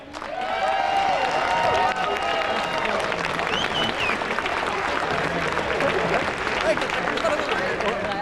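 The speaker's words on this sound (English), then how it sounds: "another round of applause, please, for Jelena Dokic of Australia" A tennis crowd in Hong Kong gives sustained applause for Jelena Dokic after her 2001 semifinal, steady dense clapping with shouts and voices rising above it early on.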